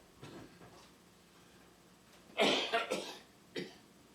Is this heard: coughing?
yes